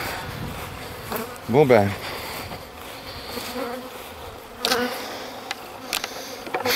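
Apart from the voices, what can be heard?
swarm of agitated honeybees buzzing around the hive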